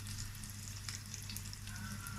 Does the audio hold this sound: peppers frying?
yes